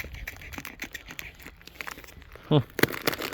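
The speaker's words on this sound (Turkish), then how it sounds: "Kes bantları." Crinkling and rustling of a cargo package holding a camping tent, with a short rip of tape being cut, close by, under soft background voices.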